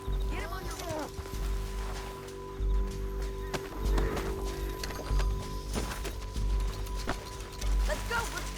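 A horse in the Red Dead Redemption 2 video game clip-clops and snorts amid a busy game soundscape with people talking over it, hoofbeats faint and scattered.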